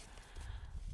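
A horse named Red walks during a first training session, its hooves striking faintly and unevenly at a distance over a low background rumble.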